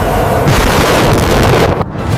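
A cinematic missile launch roars as one dense, loud, sustained rush of fiery thrust, broadband and unbroken, ending in a brief abrupt drop before the roar resumes.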